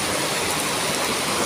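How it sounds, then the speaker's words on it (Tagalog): Steady rain pours down in a dense, even hiss with no breaks over a brief stretch. "Tuloy-tuloy pa rin yung ulan."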